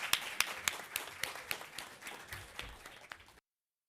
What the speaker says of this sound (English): But we can give a huge round of applause to the panelists.